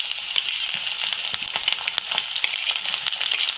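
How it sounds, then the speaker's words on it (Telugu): Onion and green chillies fry with pounded gangavayala greens in hot oil, a loud, dense crackling sizzle with frequent sharp pops and spatters throughout, no talking. "వేగుతున్న వాటిలో ఇప్పుడు ఉల్లిపాయ పచ్చిమిరపకాయ యాడ్ చేసుకోవాలి"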